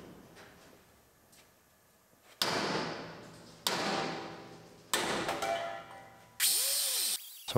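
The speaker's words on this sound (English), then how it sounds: "Could get the die grinder in on the top, so we just use a Sawzall." A Sawzall reciprocating saw cuts off a steel bracket on a wrecked dump trailer, in loud bursts of harsh rasping that start and stop several times, with a final burst ending in a falling whine.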